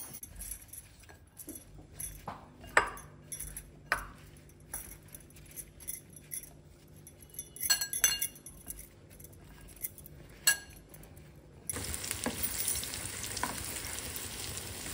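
Raw banana pieces are stirred with gram flour in a bowl, giving soft, irregular scraping and clinking knocks at close range, followed near the end by a steady hiss.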